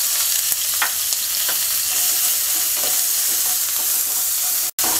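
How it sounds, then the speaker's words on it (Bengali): Chopped onions fry in a pan with whole cumin and radhuni seeds, a loud steady sizzle with occasional scraping stirs and a brief dropout near the end, no talking. "পেঁয়াজটাকে হালকা ভেজে নেব।"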